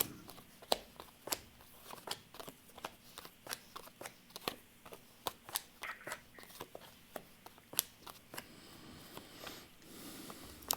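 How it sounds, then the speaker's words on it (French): Tarot cards shuffled and laid out by hand, a steady run of crisp snapping riffles and soft flicks repeating every half second or so, close and fairly quiet, with no talk. "Je vais tirer quelques cartes."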